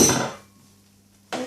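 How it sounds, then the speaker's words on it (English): A metal lid comes off a simmering pot of kombo with meat, peanut and okra, giving a short clatter and clink up close, then a quiet pause before a second brief metallic knock. "Take off the lid"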